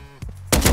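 Gunfire and explosive rounds in the survival video game Rust: a short muffled thump followed by a loud, heavy burst of blast noise, brief and close.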